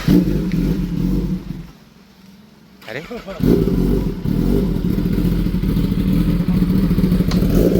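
A BMW S1000RR superbike engine runs loud and close, dropping to a quieter lull before surging back into sustained revving, with a brief spoken exclamation during the gap.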